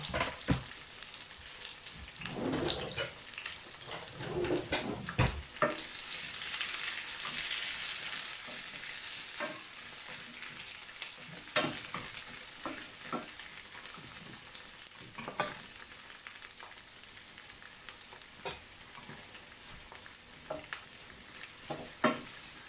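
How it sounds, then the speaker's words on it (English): Onion and fresh seasoning sizzle and crackle steadily in a hot pan, with occasional scraping and knocking of a utensil stirring, no voices. "I love that smell when the onion and the fresh seasoning is frying up."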